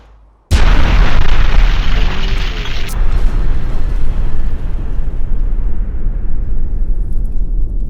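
A bomb detonates in the video game Fallout: New Vegas, a sudden loud blast followed by a long rumbling roar that slowly fades across several seconds, with no voices.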